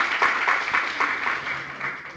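Audience at a university quiz competition clapping to welcome the judge, a dense, steady wash of applause that holds evenly for a couple of seconds with no clear voices.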